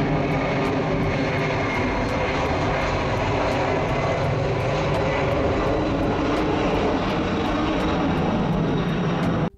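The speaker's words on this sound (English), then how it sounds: "we're going to do some plane spotting at Dallas-Fort Worth International Airport" Jet airliners fly over Dallas-Fort Worth International Airport with a loud, continuous engine roar that holds steady throughout, without speech.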